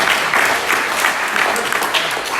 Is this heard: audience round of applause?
yes